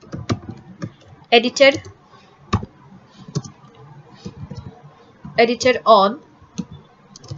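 Keys clatter on a computer keyboard while entering details into an Excel spreadsheet, light scattered clicks and a few quick bursts of typing, close by, between bits of talk.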